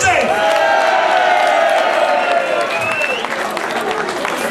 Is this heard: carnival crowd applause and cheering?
yes